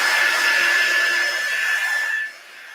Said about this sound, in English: So I'm going to heat this up real quick. This just makes the wax easier to buff in.